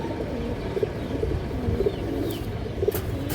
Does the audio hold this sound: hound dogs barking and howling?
no